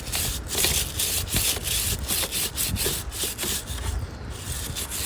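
Steady, close rubbing and scrubbing on the chain of a 2023 Honda Rebel 500 motorcycle during cleaning, a continuous gritty brushing texture with faint rhythmic strokes and no talking.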